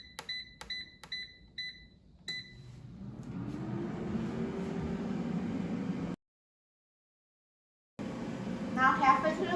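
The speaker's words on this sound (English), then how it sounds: "let's put the air fryer basket in the air fryer" An air fryer at 400 degrees Fahrenheit cooking frozen breaded green beans: several sharp control-panel beeps, then a steady fan whir that runs on and cuts out briefly before resuming under speech.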